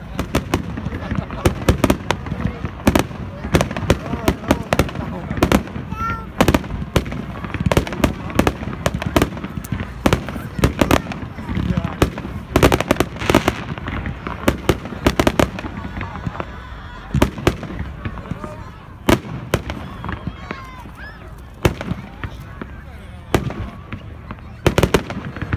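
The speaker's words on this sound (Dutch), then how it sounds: "dit was de finale van de demoshow van Vuurwerk Berkel" A fireworks finale at a retailer's demonstration show bursts in a dense, rapid barrage of loud booms and crackling pops that pile up almost continuously, with a few scattered louder reports standing out near the end.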